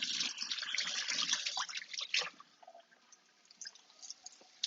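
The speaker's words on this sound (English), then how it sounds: "Just gonna rinse off my hands real quick." Hands rinsed under running tap water in a kitchen sink, a close hiss and splatter of water that shifts as the hands move, then eases into lighter drips near the end.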